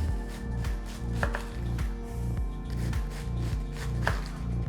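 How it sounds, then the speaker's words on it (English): A knife slices through cabbage on a cutting board in a steady, even rhythm of close, crisp chops, about ten cuts in quick succession with no talking. "For my cabbage, I'm just going to slice it down."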